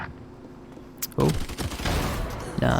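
Gunfire in the shooter game Valorant, with a few sharp broadband bursts of shots, one early and a longer volley later, heard under spoken commentary.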